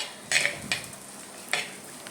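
Spices and aromatics for a brinjal curry sautéed in a pan, a soft background sizzle broken by three brief scraping stirs of a spoon, close and fairly quiet, no voices.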